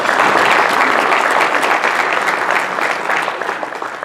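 Applause from a Rotary club meeting audience at an off-site venue, a dense, loud wash of many hands clapping steadily, easing slightly toward the end.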